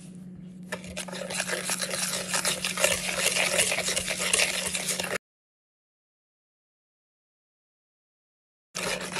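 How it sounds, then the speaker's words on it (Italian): A hand whisk beats three egg yolks with sugar in a bowl for a pistachio cream, making a fast, steady scraping rattle close up for about five seconds, then silence before it briefly resumes. "E con una frusta a mano vado a sbattere."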